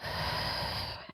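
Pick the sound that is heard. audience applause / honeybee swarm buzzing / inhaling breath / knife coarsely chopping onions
inhaling breath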